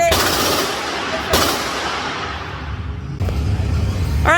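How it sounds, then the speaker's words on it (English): A SAR USA K12 Sport shotgun fires at a range, three loud, sharp blasts spaced over a few seconds with echoing tails between them. "Jamie, so you've done about 900 rounds with your SAR USA K12 Sport"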